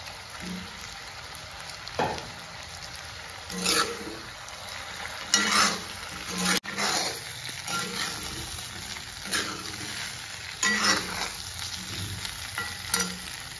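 Potatoes cut in fairly large chunks fry and sizzle steadily in a pan of local chicken curry, with several clear bursts of stirring scraping through the hiss; no one speaks.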